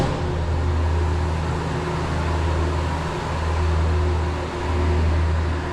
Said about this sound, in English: vacuum back on